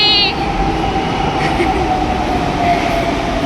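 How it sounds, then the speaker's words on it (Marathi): A Pune Maha Metro train runs at speed, heard from on board as a loud, continuous rumble with a faint whine and light rattling, with occasional faint voices. "पुण्याची महा मेट्रो"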